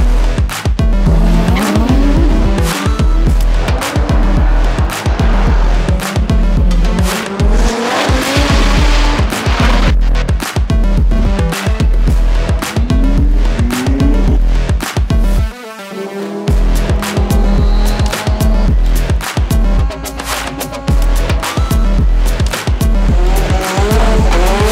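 Supercars such as Lamborghinis, Supras, GTRs and Corvettes racing at the TX2K street car event, with loud, sustained engine roars that rise and fall through gear changes, sharp tire squeals and skids, and brief cutouts between passes.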